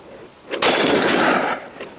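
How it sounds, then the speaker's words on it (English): A single .44 Magnum round, a 240-grain full metal jacket, fired at a homemade pistol-rated armor plate: one sharp, loud blast with a broad sustained roar that tails off over about a second, with no voices. "Now we got the 44 mag shooting the 240 grain Full Metal Jacket."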